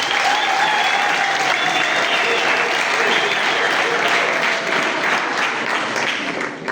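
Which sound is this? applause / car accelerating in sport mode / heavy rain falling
applause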